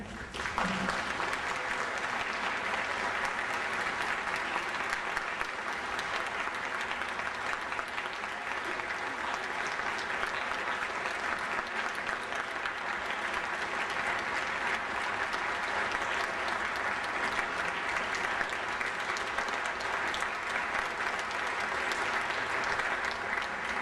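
An audience at a 2011 Martin Luther King Jr. Day event applauds an award recipient: sustained, even clapping from a sizable crowd that continues steadily without pause throughout.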